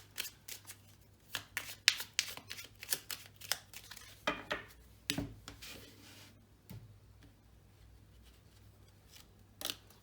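A deck of forest-themed oracle cards is shuffled by hand in a series of quick, crisp riffles and taps, bunched irregularly at first then thinning out to a few isolated flicks amid quiet.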